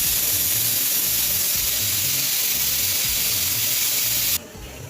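Peas boiling in a pressure cooker on a lit gas stove: a loud, steady, rushing steam whistle that holds for about four seconds, then cuts off abruptly, leaving a quieter hiss.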